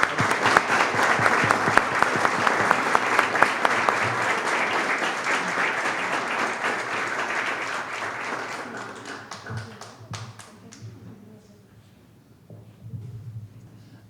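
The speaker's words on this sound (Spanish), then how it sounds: "para quien pido un fuerte aplauso" An audience at a book presentation for the novel "La Noche de San Juan" applauds the author Nacho Gómez: strong, sustained clapping that thins out and fades to scattered claps and quiet after about ten seconds.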